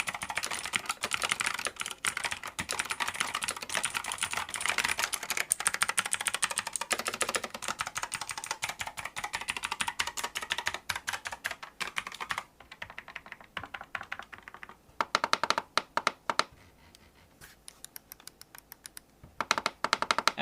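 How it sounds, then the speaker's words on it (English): Green clicky mechanical switches on a Razer BlackWidow V4 Pro keyboard clatter in fast, continuous typing, crisp and close, then break into shorter bursts of key presses with brief pauses. "these switches are going to be very clicky, and here's a little click test for you guys to hear exactly what it sounds like."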